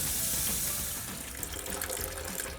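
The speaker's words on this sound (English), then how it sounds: "We're going to run some cool water on it" Cool tap water runs steadily from a kitchen sink faucet into a bowl being filled, a continuous close hiss and splash with no talking.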